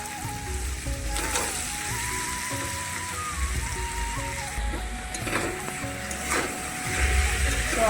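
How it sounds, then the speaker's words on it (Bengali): Chicken frying in a pan just after ginger-garlic paste is added, a soft continuous sizzle with occasional scraping and stirring bumps, fairly quiet and close. "আদা রসুনের পেস্টটা দেওয়া কমপ্লিট এখন একটু কষিয়ে নেব"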